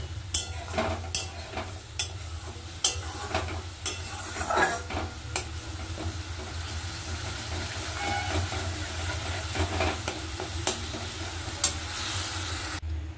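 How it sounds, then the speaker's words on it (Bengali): Spices with tomato, turmeric and cumin sauté in a pan, a low continuous sizzle punctuated by repeated scraping stirs and clicks of the spoon against the pan, close and steady without talk. "এবার ভালো করে এটাকে কষিয়ে নেব, যাতে কাঁচা মশলার গন্ধ না বেরোয়।"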